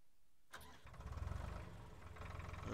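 A tractor engine in Farming Simulator 2013 starts with a brief cranking click, then catches and settles into a steady, throbbing mid-pitched idle that carries on to the end, with no talk.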